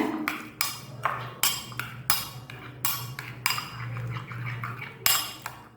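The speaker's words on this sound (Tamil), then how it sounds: "அதில் கொஞ்சம் கொஞ்சமாக ஊற்றி நல்லா மிக்ஸ் பண்ணி விடுங்க" A spoon clinks repeatedly against a bowl while sugar and honey syrup is mixed in for homemade yeast. The clinks are sharp and close, about one per half second, over a low steady hum.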